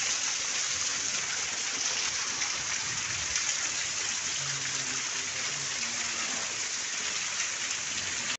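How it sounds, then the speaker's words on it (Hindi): Heavy rain pours down in a dense, unbroken hiss, loud and steady throughout with no other sounds standing out. "बारिश बहुत ही ज़्यादा तेज़ हो रही है भाई"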